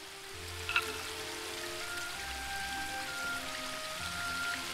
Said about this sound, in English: The spring brook emerges up there.